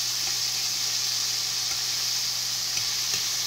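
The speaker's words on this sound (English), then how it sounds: "The peanut oil is a great oil to fry in" Chicken pieces fry in hot peanut oil with a steady, even sizzle and hiss, close and continuous, with no talking.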